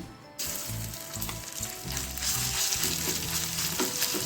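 A teaspoon of crushed ginger-garlic paste hits hot oil in a pan and fries, with a sudden loud sizzle that stays steady and bright, then stirring, close up with no talk.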